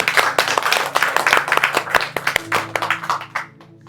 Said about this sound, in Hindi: क्या हम उसके लिए ताली बजा सकते हैं?